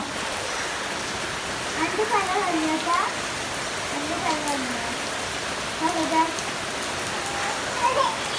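Steady rain falls outdoors near a home, a continuous close hiss of drops on surfaces, while someone talks intermittently over it.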